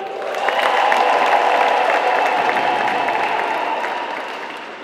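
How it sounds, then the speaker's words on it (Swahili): A church congregation at a Catholic parish thanksgiving Mass applauds, producing dense, sustained clapping from many hands that swells quickly and then slowly fades. "Makofi tafadhali"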